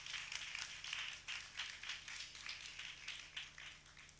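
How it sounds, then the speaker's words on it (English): Audience applause at a graduation ceremony, a faint, steady patter of many hands clapping at a distance, with the clapping continuing evenly throughout. "I ask you to give yourselves a round of applause for sticking it out here"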